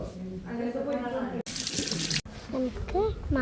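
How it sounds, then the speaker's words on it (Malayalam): Tap water runs over a dish being washed in short gushing bursts, one louder stretch in the middle, with a voice talking around the splashing. "പാത്രം കഴുകും."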